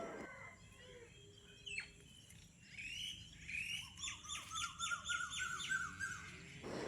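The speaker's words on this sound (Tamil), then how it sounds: "பட்டாம்பூச்சி, குருவி சத்தம்னு அப்படியே சூப்பராக இருந்தது" Sparrows chirp and squawk in a lively home garden chorus after morning rain, the calls growing busier and louder toward the end.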